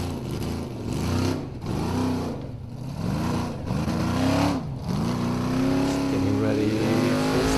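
A Formula Offroad buggy engine driving through a gate on a hill climb, loud and near, with repeated rising and falling revs, while a commentator talks over it.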